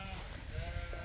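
Sheep on a farm bleat close by, leaving a gate as a flock, their calls rising over a steady background hum with no one speaking.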